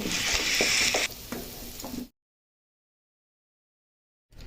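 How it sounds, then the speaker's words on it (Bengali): Cut potatoes fry with salt in oil left over from frying cauliflower, a loud close sizzle with stirring clatters for about two seconds, then silence before a faint return at the end. "কপি ভাজার অবশিষ্ট তেলে কেটে রাখা আলু ও সাথে নুন দিয়ে বেশ লালচে করে ভেজে তুলে নিতে হবে"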